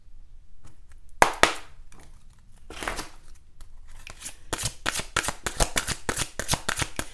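Oracle cards being shuffled by hand: a few scattered riffles and taps at first, then a rapid steady run of crisp card flicks, close and alone without talk.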